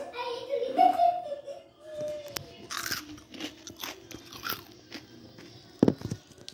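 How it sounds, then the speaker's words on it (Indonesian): Crunchy deep-fried capcay vegetables with bean sprouts being bitten: a few sharp, close crunches and chewing noises, with a brief voice earlier and a loud crisp bite near the end. "Kriuk banget, jadi kayak gini."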